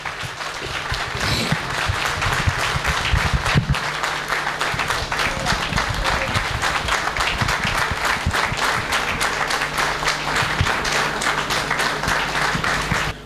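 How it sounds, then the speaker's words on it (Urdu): A standing audience at the PASSCO 2023 event applauds the chief guest: loud, dense clapping runs without a break for over thirteen seconds, with some voices mixed into the crowd noise. "بھرپور تالیوں کے ساتھ"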